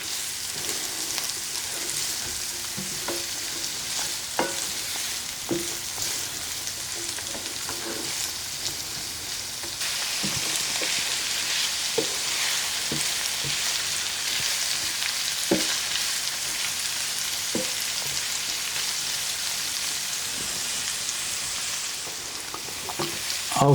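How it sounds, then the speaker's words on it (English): Diced onion sautéing with sausage in a pot, giving off a steady, dense sizzle with occasional scraping taps from stirring, close up and continuous, with no voices. "I'm going to put this in here and let it saute real good with this sausage"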